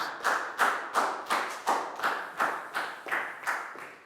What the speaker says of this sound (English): Big round of applause, guys.